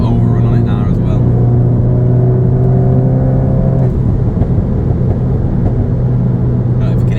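Exhaust of a VW Golf Mk8 GTI with the OPF/GPF removed, a steady engine drone that drops away into a rougher, crackly overrun rumble, heard from inside the car with voices over it.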